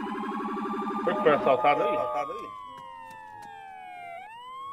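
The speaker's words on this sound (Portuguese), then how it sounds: "Desliga a sirene, velho." A police car siren in the video game Arma 3 (Altis Life) wails in a steady rising-and-falling electronic tone, loud and close, then winds down to a single fading pitch while someone speaks over it.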